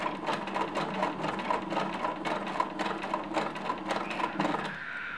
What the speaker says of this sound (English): you want to sew just until the point of the V